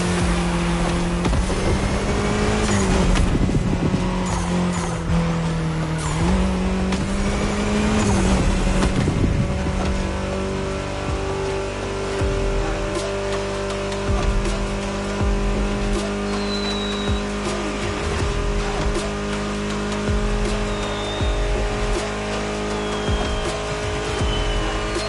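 A Mini Cooper races in The Crew Motorfest, its engine droning and shifting pitch through turns, with brief tire squeals and a steady road roar. No one speaks.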